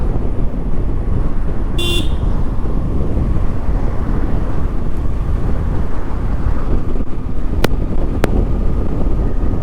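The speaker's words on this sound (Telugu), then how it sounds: "ఇక్కడ గాలి వస్తుంది మంచిగానే" Wind rushes steadily past during a solo motorcycle ride around Munnar in Kerala, a constant low roar filling the whole stretch, with a brief high tone and a couple of faint clicks near the end.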